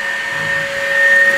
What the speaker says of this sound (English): Some water was pulled into the vacuum.